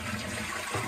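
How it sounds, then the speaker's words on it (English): A home toilet flushes during a repair, a steady close rush of water that fills the whole moment at an even, fairly loud level with no talking. "So then it says to flush the toilet."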